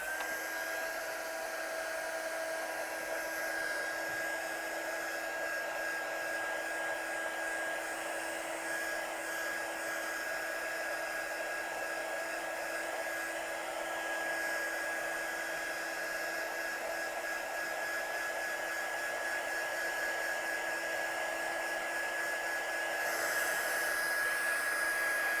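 A heat tool blows continuously to dry a stamped ink background, a loud, steady high-pitched whir held close and unbroken for the whole stretch.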